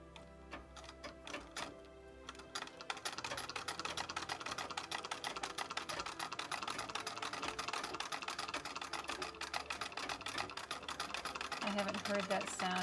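A 1927 Singer treadle sewing machine stitching in a rapid, steady clatter after a short pause at the start, a dense mechanical ticking that runs on close and continuous.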